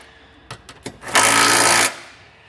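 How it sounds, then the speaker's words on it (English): A few clicks, then a short continuous buzzing whir as a 17mm socket on a power tool snugs down trailer hitch receiver hardware on a 2015 Hyundai Tucson, close and loud for about a second. "we'll come back with the 17mm socket and snug it down"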